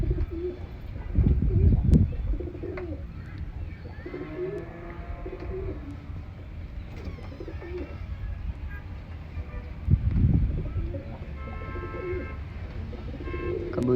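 Pigeons give soft, low cooing calls in a few separate bursts, fairly faint, with quiet background ambience between them.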